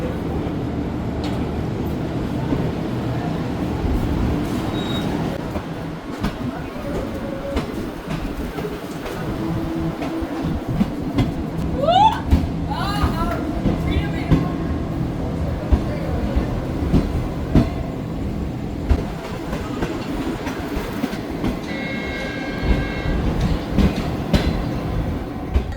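Inside a moving Green Line luxury train in Pakistan on the Islamabad–Karachi route, a steady rumble of wheels on rails with clickety-clack and brief squeals, faint voices now and then.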